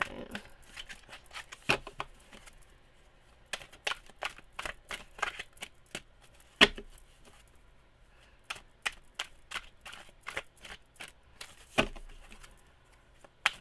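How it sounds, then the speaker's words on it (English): Tarot cards being shuffled and pulled, soft irregular riffling snaps and flicks with short pauses, close but fairly quiet. "I'm just gonna pull three cards"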